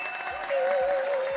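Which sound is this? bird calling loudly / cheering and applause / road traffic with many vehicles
cheering and applause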